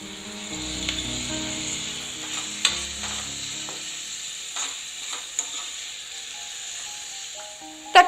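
Small chopped ripe tomatoes sauté in a pan for vegetable salna, giving a soft steady sizzle with a few light stirring scrapes and a sharper clink near the end, no talking.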